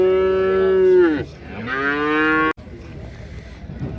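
Calves lowing at a livestock market in Karabulak near Shymkent, two long drawn-out moos, the first dropping sharply in pitch and the second rising, loud and close, followed by a sharp knock and background market noise.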